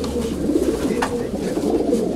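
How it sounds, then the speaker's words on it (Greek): Pigeons at a 2014 competition in Veria coo steadily in a low, rolling murmur, with voices and bustle mixed faintly underneath. "αυτά λοιπόν είναι τα περιστέρια του φίλου μας του Ντέλλα"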